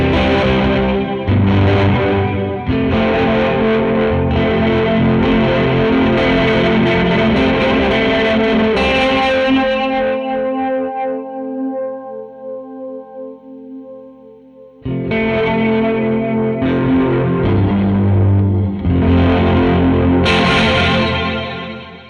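Electric guitar chords through a Catalinbread Soft Focus shoegaze reverb pedal wash out in a long, shimmering reverb, swelling loudly, then decaying into a fading tail before the strumming returns.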